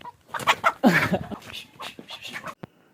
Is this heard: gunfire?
no